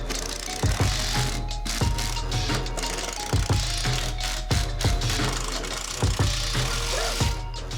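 A screwdriver or drill drives screws through a wooden wall desk into a wall stud, giving a close, steady mechanical whir with a string of sharp ratcheting clicks repeating across the clip.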